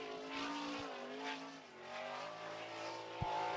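Sprint car, number 20 in the Shamrock Carpets, lapping the track during time trials, its engine whining and rising and falling in pitch as it circles, heard at a moderate distance.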